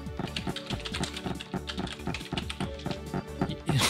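Rapid keyboard typing in a typing game, a dense run of quick clicking keystrokes throughout, close and fairly loud, with no talk.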